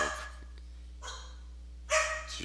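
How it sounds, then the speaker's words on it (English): A dog gives three short barks, faint and somewhat distant, spaced about a second apart over a steady low hum. "the dog."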